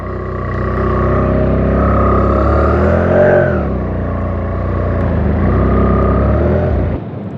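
A motorcycle on the first ride of the season, its engine droning steadily and loudly up close, pitch rising and falling with gear changes and throttle, with wind noise throughout and a sudden drop near the end.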